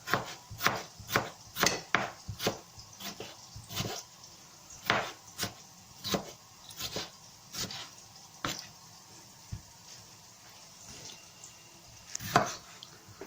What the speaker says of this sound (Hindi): इसके बाद आपने टमाटो चॉप करने हैं।